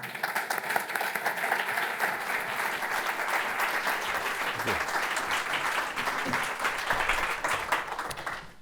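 An indoor audience at a lecture on addiction applauds to welcome Dr. Gabor Maté to the stage. The clapping is steady and dense, sustained for several seconds at moderate loudness, with no talking over it.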